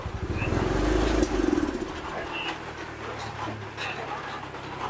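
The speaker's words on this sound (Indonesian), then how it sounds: "motor ini nyala, kemudian coba kita pelintir gasnya" A carbureted Mio motorcycle that starts poorly when cold idles and is briefly revved with the throttle, loud and close, then settles back to a steady rumble.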